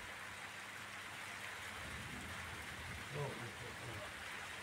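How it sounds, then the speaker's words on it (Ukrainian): Light drizzle falls outdoors after distant thunder, a faint, steady hiss of fine rain across the whole stretch with a brief soft bump near the end. "О, і моросить почало."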